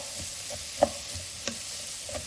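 Onion frying in a pan for vada curry, a faint, steady sizzle with a few soft clicks of stirring, quiet and brief.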